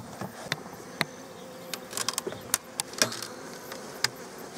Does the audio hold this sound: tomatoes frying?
no